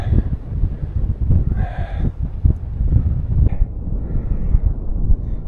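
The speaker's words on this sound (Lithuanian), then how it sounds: "Vėjukas kepurę nuputė." Wind in the Egyptian desert buffets the microphone with a steady, loud, low rumble that rises and falls in gusts, continuing without a break.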